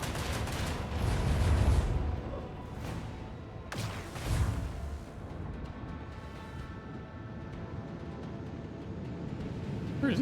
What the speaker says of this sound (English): Oh, I think I can still get you with my torpedo.